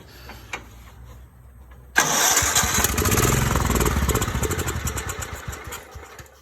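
John Deere LX173 riding mower engine cranking with the throttle worked by hand: after a quiet hum, a sudden loud, rough, sputtering engine roar that holds steady for several seconds, then slowly fades without settling.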